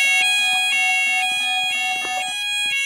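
A fire alarm sounds inside an Asda supermarket, a loud, steady electronic tone pulsing in quick repeated beeps that continue without a break.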